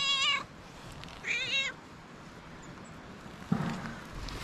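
A cat meows twice in a botanical garden in Tbilisi, two short, fairly quiet calls close by, followed by a soft thump amid quiet outdoor ambience.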